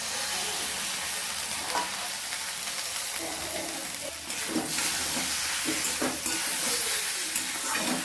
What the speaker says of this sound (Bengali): মশলাটা দেওয়ার পরেও 5-7 মিনিট অবধি কিন্তু ভেজে নিব আমরা